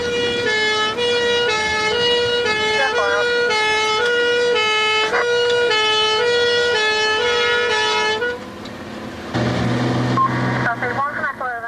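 A fire engine siren wails with a rising and falling tone while responding to a stonemason's workshop fire in Merseyside, loud and close over engine rumble. The siren cuts out near the end, leaving a brief stretch of truck noise and other sounds.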